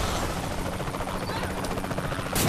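Helicopter rotor chopping in the Saints Row 3 video game, a steady dense whirring drone throughout with no speech, close and fairly loud, with a brief burst of noise near the end.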